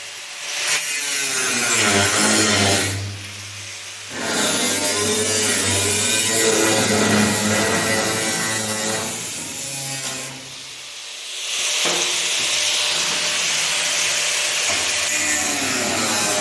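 A power tool cutting through a spot-welded steel body panel, a loud continuous grinding rasp with two short pauses as the blade is lifted, close up with no talking.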